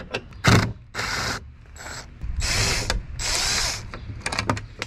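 A tool backs an 8mm bolt out of a Ford Fusion during a quarter glass replacement, making close ratcheting and whirring bursts with short pauses between them and no talking.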